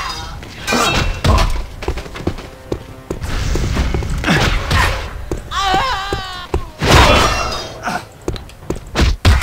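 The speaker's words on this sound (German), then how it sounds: "Boom, wir sind so stark, dass wir Särge umtreten können." A coffin is kicked over in the video game Dark Messiah. Heavy thuds and wooden crashes come in close succession amid clattering debris and other game sounds, with some speech mixed in.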